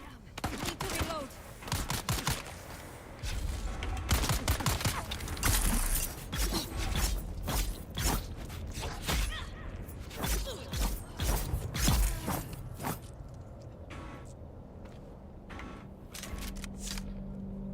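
Gun being reloaded in a video game, with a rapid series of metallic clicks, creaks and clacks mixed with bursts of gunfire, dense and fairly loud.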